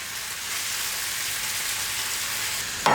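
Steady, close sizzle of peas and baby spring onions sautéing in butter in a pan, a continuous frying hiss ending with a brief metallic clink.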